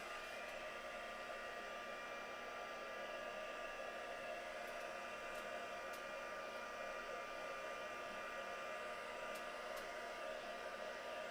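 A heating tool blows steadily to dry purple and hickory smoke paint, making a constant loud whirring hiss that runs without a break, with a few faint ticks in the background.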